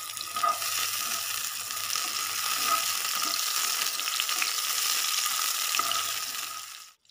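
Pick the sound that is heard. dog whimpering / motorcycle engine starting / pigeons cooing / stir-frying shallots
stir-frying shallots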